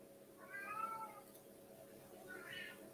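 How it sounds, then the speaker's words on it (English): A domestic cat meows twice indoors, a drawn-out call followed after a pause by a shorter one, faint against a steady electrical hum. "Can you hear my cat?"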